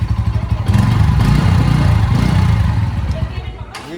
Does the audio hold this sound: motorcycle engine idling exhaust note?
yes